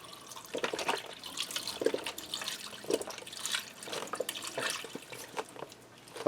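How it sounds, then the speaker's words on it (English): Beef broth is poured into a Ninja Foodi pot holding onion soup mix, a faint, quiet splashing and trickling of liquid that swells and eases over several seconds. "I'm going to add in 4 cups of beef broth."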